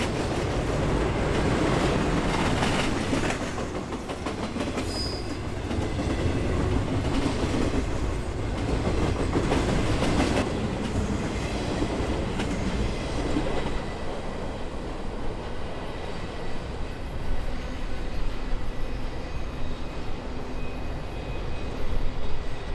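A long loaded freight garbage train rumbles steadily past nearby, its cars rattling and clattering over the tracks in a continuous roar.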